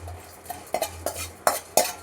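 Cinnamon and coriander seeds dry-roasting in a pan, stirred with a spatula that gives a rhythmic series of sharp scraping clinks against the metal over a faint sizzle, close and with no voice.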